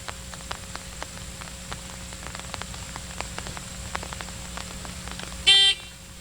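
Rain falling outdoors in Louisiana: a steady, soft patter with scattered drip ticks, then a sharp electronic beep near the end.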